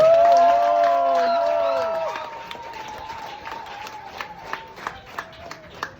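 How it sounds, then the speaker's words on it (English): A crowd cheers and whoops loudly at a career talk, voices rising in shouts that fade out after a couple of seconds, followed by scattered, quieter clapping trailing off. "Please, a round of applause."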